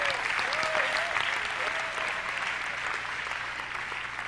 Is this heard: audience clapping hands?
yes